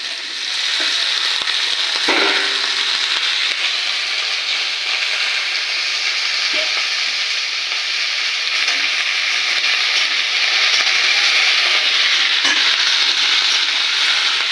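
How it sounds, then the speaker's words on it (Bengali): Okra sizzles loudly in a pan with mustard-chilli paste, a steady bright frying hiss with a few soft stirring clicks and scrapes, close by and without talk. "এর মধ্যে আমি এই ঢ্যাঁড়সগুলো দিয়ে নিচ্ছি"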